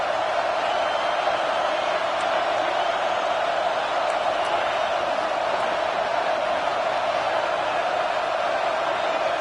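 A stadium crowd in a college football video game sends up a steady, dense roar of cheering and shouting, loud and continuous throughout, with no break.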